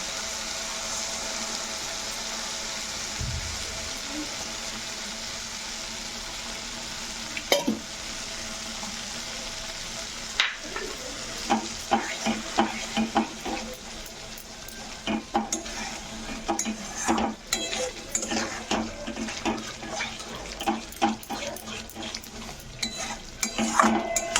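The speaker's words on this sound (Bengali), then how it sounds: "পোস্তটা ভালোভাবে ভাজা, একটু সামান্য ভাজবো, বেশি ভাজবো না।" Poppy seed paste fries in oil for a Bengali fish curry, quiet at first, then a spoon scrapes and clinks against the pan in steady, busy strokes under a soft sizzle.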